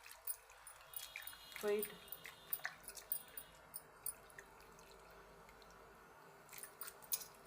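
Dried fish soaked in hot water being washed by hand to rinse off sand, wet squishing, dripping and splashing close up, with a voice speaking briefly over it.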